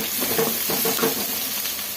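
Hot oil sizzles and crackles steadily, with small spattering pops as tempering spices hit the pan for soppu bassaru; no talking.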